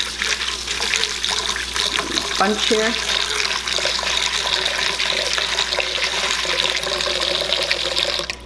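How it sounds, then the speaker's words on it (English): Water runs and pours into a container of rinsed dried green beans, leather britches, in a kitchen, a steady close splashing stream that continues throughout, with a brief spoken remark partway through. "Now we're going to add some water just to the top of them."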